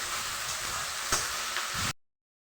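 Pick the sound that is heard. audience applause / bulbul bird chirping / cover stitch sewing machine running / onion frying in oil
onion frying in oil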